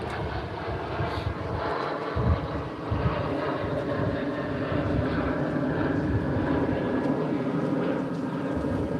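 Airplanes flying overhead, a loud continuous engine roar that hangs steady through the whole stretch, with faint outdoor bustle underneath.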